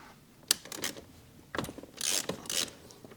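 A ratchet works a Torx 45 bolt on a Mercedes front seat mount, giving a few separate bursts of clicking and metallic rasping close to the microphone, with brief pauses between the turns.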